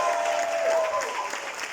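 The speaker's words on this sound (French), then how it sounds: "un tonnerre d'applaudissements pour les équipes de la SGS." Applause from an audience at a certificate-giving ceremony honours the SGS trainer teams, a brief, moderately loud patter of clapping with a faint voice over it.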